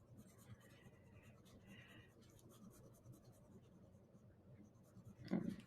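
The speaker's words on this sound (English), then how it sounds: "I could totally go in with my B pencil." A B pencil shading very lightly on paper, producing a soft, continuous scratchy whisper of graphite strokes close up, with faint low background hum and a brief louder rustle near the end.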